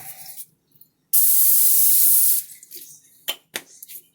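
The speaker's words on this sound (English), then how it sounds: "And we'll spritz it with Pam." Pam cooking spray hisses onto a foil-lined baking pan in one loud, close spritz of just over a second, with quieter kitchen handling and clatter before and after.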